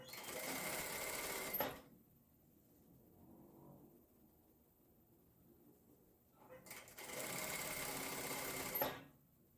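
A home sewing machine stitches patchwork pieces for a country-style backpack in two steady, fast whirring runs, separated by a quiet pause with faint handling.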